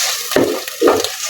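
Ginger garlic paste fries in a hot pan, crackling and sizzling loudly up close, with bursts of spatter and stirring scrapes as it is moved around.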